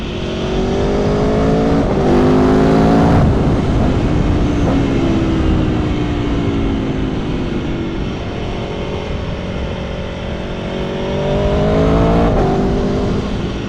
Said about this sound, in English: I hope you can hear that quick shifter going